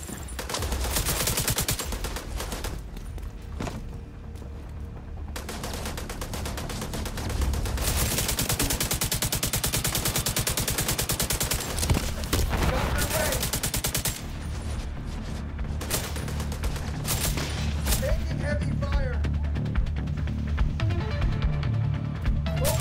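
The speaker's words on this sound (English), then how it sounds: "Heavy fire." Sustained heavy gunfire roars through a firefight in The Division 2 at the National Archives. Rapid machine-gun bursts and overlapping shots run almost continuously, loud and close, with brief lulls between volleys.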